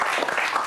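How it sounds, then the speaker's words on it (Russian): A studio audience on an evening show applauds in a brief, dense burst of clapping, steady and fairly loud, lasting well under a second. "Зато аплодисменты этим добрым вечером"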